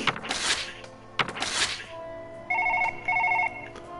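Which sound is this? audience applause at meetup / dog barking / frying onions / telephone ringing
telephone ringing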